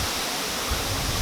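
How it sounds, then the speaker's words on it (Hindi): A powerful waterfall in a hidden spot in Koderma, Jharkhand, pours down with steady, loud, broadband roaring and rushing water that fills the whole stretch without a break. "इस जगह का जो धारा है ना जो बह रही है ऊपर से, झरने बहुत पावरफुल है"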